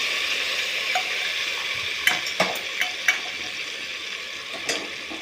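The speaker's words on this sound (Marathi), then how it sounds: "यामध्ये आता उकळून घेतलेलं चिकन ॲड करायचं आहे।" Boiled chicken fries in a pan of spicy masala with chicken masala and black chili powder, a soft steady sizzle broken by several sharp scrapes and clinks of a spoon stirring.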